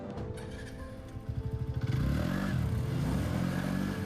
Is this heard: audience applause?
no